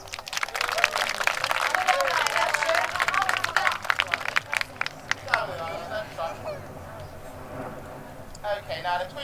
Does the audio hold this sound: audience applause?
yes